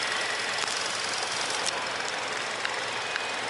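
Turbocharged 2.5-litre engine of a 2022 Hyundai Tucson Limited running steadily, a constant mechanical hum with faint ticking and clicks, close and moderately loud with no speech over it.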